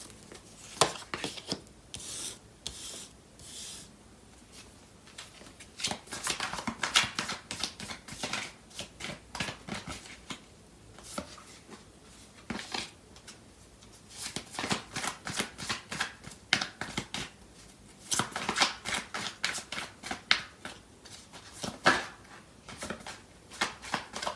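Tarot cards are handled and shuffled close up, with rapid riffling and slapping bursts coming in uneven clusters, separated by quieter sliding and rubbing of the deck.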